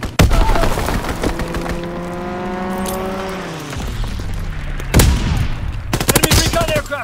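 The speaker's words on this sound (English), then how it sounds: "Enemy strafing run incoming! Get to cover!" An enemy aircraft makes a strafing run in Call of Duty WWII Team Deathmatch at Pointe du Hoc. Loud rapid gunfire bursts mix with a droning engine whose pitch falls as the plane passes overhead.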